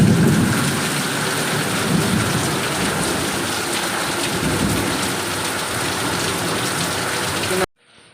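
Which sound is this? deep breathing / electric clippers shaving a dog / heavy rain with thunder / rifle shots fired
heavy rain with thunder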